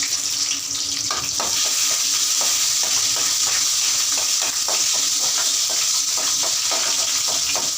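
Chopped onions frying in hot oil with mustard seeds, a constant loud sizzle with repeated scraping strokes of a spatula across the pan, close and unbroken, with no voices.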